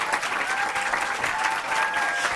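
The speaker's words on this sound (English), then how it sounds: "One more round of applause." A packed room gives a steady round of applause for honorees at a diversity awards event, even and sustained with a faint murmur of voices underneath.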